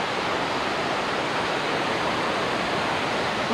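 Water rushes forcefully through Salandi Dam at Hadagarh in Keonjhar, a loud, steady, unbroken roar that fills the whole span.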